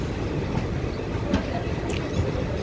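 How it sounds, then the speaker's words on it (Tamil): Tiruchendur Express is pulling into Tiruchendur railway station, heard from onboard as a constant loud rumble with rhythmic wheel rattling and a few faint squeaks throughout. "கரெக்டாக 7:25 வண்டி என்டர் ஆகுது திருச்செந்தூர் ரயில்வே ஸ்டேஷனுக்கு."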